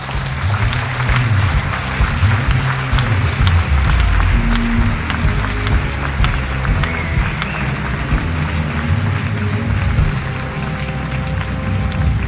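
A large festival crowd at NIFFF 2017 applauds loudly and continuously, with thick clapping over a low crowd rumble for around twelve seconds.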